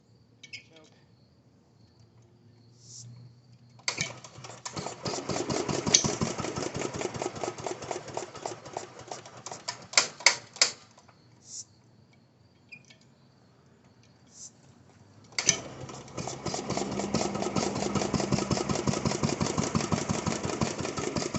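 A 1937 International tractor fitted with a lawnmower engine idles low and steady nearby, dropping out briefly mid-way before chugging again, with faint insect chirps in the background.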